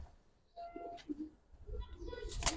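Giribaz pigeons, a pair of flying pigeons kept for sale, give soft, faint coos amid light background noise, with brief rustles near the end.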